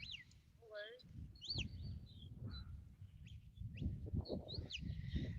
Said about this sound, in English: That real short chirp chirp, that's a come by.